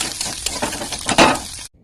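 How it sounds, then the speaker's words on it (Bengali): An egg fries in a pan with a steady crackling sizzle and a brief louder spatter burst near the end before it cuts off. "ডিমটা ভাজা ভাজা হয়ে গেছে"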